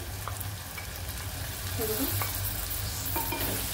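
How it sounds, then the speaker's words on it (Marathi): Dried fish being sautéed in oil with onion and tomato, with a steady close sizzle and soft scraping stir strokes throughout, no talking. "ती चांगली तेलामध्ये परतून घ्यायची, कांद्यासोबतच परतून घ्यायची ती, कांदा आणि टोमॅटो सोबत चांगली परतून घ्यायची।"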